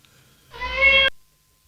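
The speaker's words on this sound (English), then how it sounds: "Pat bought kittens." A single short kitten meow, clear and fairly close, about half a second long, followed by silence.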